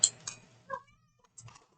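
A cat meows a few times indoors, short close calls separated by brief pauses, fairly quiet and with no one talking.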